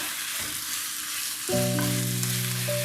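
Ground chicken keema frying and being stirred in a pan for a stuffed capsicum curry, a steady sizzle that swells louder about halfway through as fresh contact hisses, with no voices.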